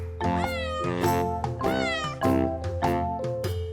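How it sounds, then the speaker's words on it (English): A cat meows repeatedly, close and loud, giving a run of about six drawn-out, wavering cries in quick succession. "Cat."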